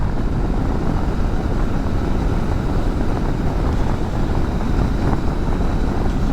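A Suzuki V-Strom 650 XT twin-cylinder motorcycle engine drones steadily throughout, mixed with heavy wind rush at constant loudness and no pauses or talk.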